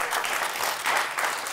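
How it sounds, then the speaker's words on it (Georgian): Audience applause on a Georgian comedy contest show, a dense continuous wash of clapping from a crowd, fairly steady in loudness with slight swells, no talk over it. "50 ლარი შენია, ალეკოს გაიღიმა აპლოდისმენტები."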